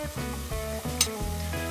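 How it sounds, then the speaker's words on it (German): Halved tomatoes and sugar are stirred briefly in a hot pot, giving a soft sizzle and scraping stir over a steady background. "Dann die halbierten Tomaten. Das noch kurz aufrühren."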